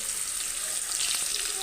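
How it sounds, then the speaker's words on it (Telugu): Fish deep frying in hot oil in a kadai, a dense, steady hiss and crackle that stays loud and close throughout with faint bubbling underneath. "దీనిలో చేపలు ఒకదాని తర్వాత ఒకటి వేయించుకొని డీప్ ఫ్రై చేసుకోవాలి"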